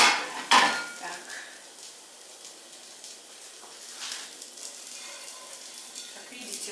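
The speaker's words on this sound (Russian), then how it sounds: "Как видите, жарю на 4 сковородах" Soft sizzling of pancakes (blini) frying in four pans at once, with a sharp clink of utensil on metal near the start and faint crackling throughout.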